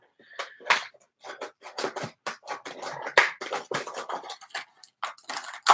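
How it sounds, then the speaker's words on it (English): Close, crisp snips and crinkles of scissors cutting through plastic packaging, in quick irregular bursts. "I'm just cutting it open with my Rex scissors."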